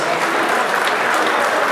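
A loud, dense round of crowd applause at a gathering remembering former football players, continuous clapping throughout with no break.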